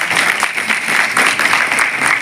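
An audience claps at a paralegal volunteer training programme, dense continuous applause filling the short stretch without a break.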